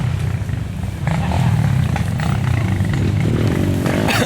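Motorcycle engine on a dirt trail ride near Miracema, RJ, a loud continuous low rumble that swells and holds steady, close by with no talk.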